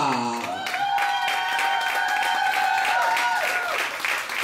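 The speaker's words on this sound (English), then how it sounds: "Everybody make some noise for Bradley Power Diva." A drag show audience applauds and cheers in a steady, dense wash of clapping that fills the room for several seconds, with sustained tones ringing through it.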